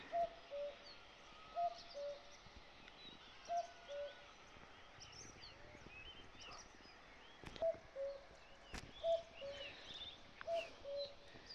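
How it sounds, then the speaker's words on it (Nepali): A kappo bird calls repeatedly in soft two-note hoots, evenly spaced in the distance, with quiet outdoor background and a few faint knocks, in a Nepali hill village. "कप्पो चरा कराउँदैछ यहाँ चाहिँ"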